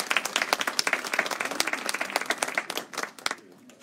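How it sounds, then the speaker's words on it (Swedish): A business audience at a Brexit-preparation event gives a welcome round of applause as a speaker comes on stage; crisp, distinct claps from a modest crowd, steady at first, then thinning and fading toward the end. "Får en liten applåd tycker jag"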